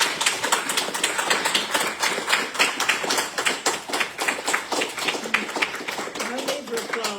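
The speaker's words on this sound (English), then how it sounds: "No need for applause." Clapping from a church congregation at a Baptist memorial service, sharp distinct claps in an uneven rhythm, fairly close and sustained, with voices talking underneath.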